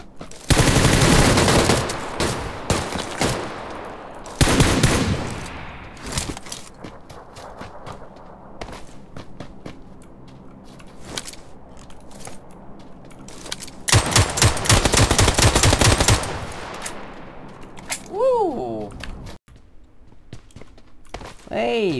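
Bursts of automatic gunfire in the shooter game PUBG Lite, loud and dense in two long volleys with scattered single shots between, while a person talks over the action.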